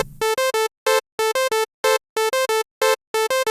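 Crisp synthesized tones in two interlocking even pulses, one pattern of four against one of six, repeating twice in clean rhythmic bursts.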